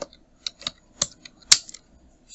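Computer keyboard being typed on: a handful of sharp, separate key clicks in an uneven rhythm, close and distinct against a quiet background, the last stroke the loudest.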